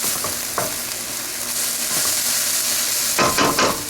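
Aromatics for sloppy joes sizzle steadily in a hot pan, a continuous close frying hiss broken by a few scraping stirs, with a louder burst of stirring near the end.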